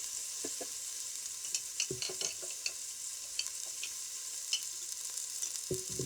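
Meat cooks in oil in a pan, giving a soft steady sizzle with scattered clicks and scrapes of stirring, faint and close, with no talking.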